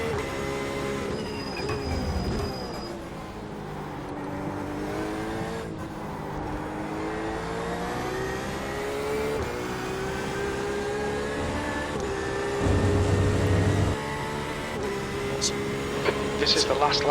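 A GTE race car at Silverstone, its engine droning and rising and falling through gear changes, heard steadily from inside the car while a voice talks over it.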